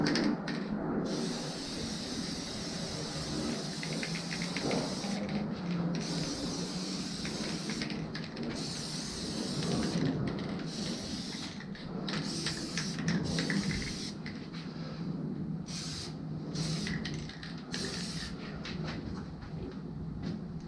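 Plasti Dip aerosol spray can laying down a second coat on emblems, a steady broadband hiss running nearly unbroken for about twenty seconds with brief pauses between passes, close and fairly loud, no talking.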